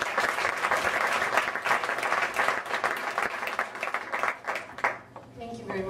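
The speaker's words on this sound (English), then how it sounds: "So let's give her a big round of applause." An audience in a hall claps for a hospice volunteer coordinator at a speaking event, dense sustained applause fading toward the end as a voice begins.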